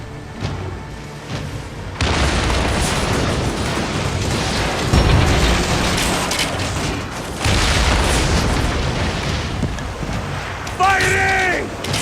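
Cannon fire and explosions boom through a naval battle in Assassin's Creed Origins, heavy dull thuds over constant rushing wind and water noise, with voices shouting orders throughout.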